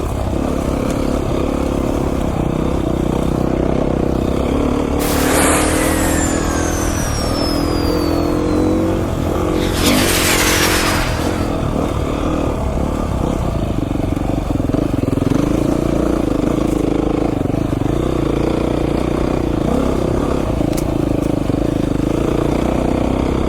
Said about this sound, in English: This motor feels really smooth. It's a pretty nice bike to ride, really.